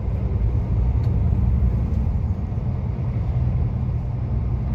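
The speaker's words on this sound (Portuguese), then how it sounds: "Aqui agora aumenta o fluxo de caminhão" Road traffic near Cuneo, Italy, with heavy trucks rolling past as a steady, loud low rumble of engines and tyres, continuous throughout with no voices.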